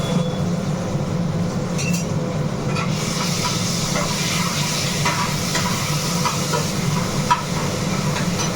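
Onion and garlic fry in a drop of oil with a little chili powder, giving a steady broadband sizzle with occasional stirring scrapes throughout, close and fairly loud with no talking.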